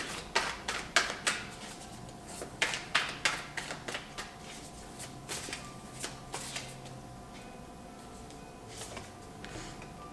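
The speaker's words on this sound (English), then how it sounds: "Let's get another card." Tarot cards are shuffled and drawn at close range. A run of quick papery riffles and snaps is followed by slower, softer flicks and slides as the cards are handled.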